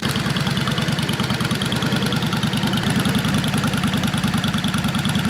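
A Yamaha V-Star 650 cruiser's air-cooled V-twin idles steadily up close, a dense, even low throb that holds without change from start to finish.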